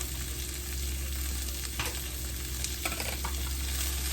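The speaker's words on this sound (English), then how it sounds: "We're just going to stir that up." Southwest taco eggroll filling with a pinch of cayenne pepper is stirred in a hot pan, giving a loud, steady sizzle with scraping stir sounds throughout and no talk.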